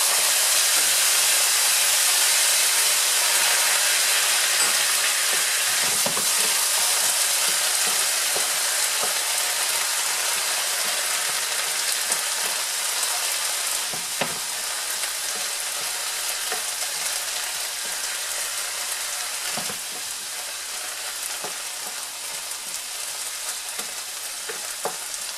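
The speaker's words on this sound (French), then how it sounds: "à ce stade, je vais déglacer avec un peu d'eau" Chicken and vegetables sizzle and hiss loudly in a pan as water is added to deglaze it for a chicken curry stew, a steady crackling fry with bursts of steam that fade slightly toward the end.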